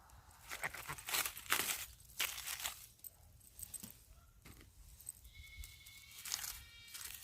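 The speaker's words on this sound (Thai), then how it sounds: "โอ้ยเสียงแพะเสียงแกะร้องค่ะ" Goat or sheep bleating outdoors, heard as a few scattered calls among rustling and handling noises, with a thin sustained cry near the end; no one speaks.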